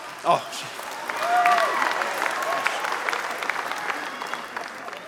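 Steady crowd applause fills an awards ceremony hall, a dense wash of clapping that swells after a brief opening thump and continues throughout at moderate loudness, with a voice faintly present underneath.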